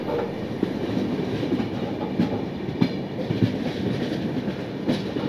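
Saraighat Express running from Howrah to Guwahati, heard from on board: a steady rolling rumble with rhythmic clickety-clack wheel beats over rail joints throughout.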